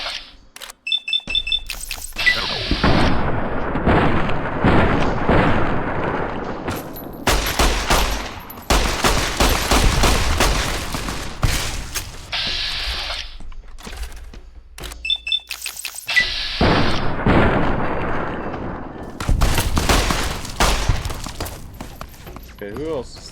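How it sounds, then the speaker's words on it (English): Repeated bursts of gunfire in the video game Fallout: New Vegas, loud and dense, with volleys and rapid shots throughout and brief pauses between exchanges. "who else is still shooting at me?"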